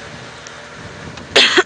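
A single short cough near the end, close and fairly loud, following a quiet stretch of low background hiss.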